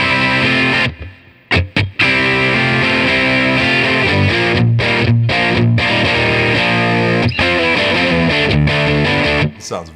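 Distorted electric guitar played through the bright channel of a Fender Collection 2 amp simulation with the bright volume at about half, sounding loud and sustained with chords, short gated stops and abrupt pauses.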